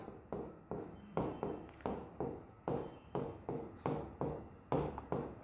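Pen strokes scratch across paper in a steady series of about a dozen close, brisk bursts, as numbers are written out for a class 10 maths HCF and LCM check, with no voice over them.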